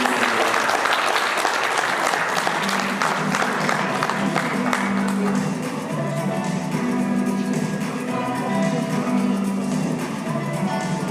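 Steady, loud applause from a conference audience welcoming speakers onto the stage. The dense clapping holds evenly throughout, with some crowd murmur underneath.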